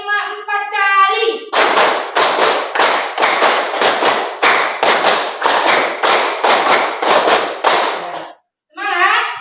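In a classroom clapping game, a class claps in a long, evenly spaced run of about a dozen loud, sharp group claps, with a teacher's voice briefly before and after.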